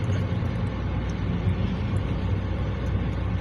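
Steady road traffic in Tagaytay City, a continuous low rumble of cars passing without any clear single vehicle standing out, moderately loud and constant throughout.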